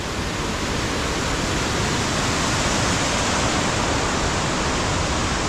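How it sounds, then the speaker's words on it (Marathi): A tall Konkan waterfall beside the Mumbai-Goa highway roars in a loud, steady, unbroken rush, heard up close with no voices. "अतिशय सुंदर असा हा धबधबा या धबधब्याखाली आता आपण आलेलो आहोत"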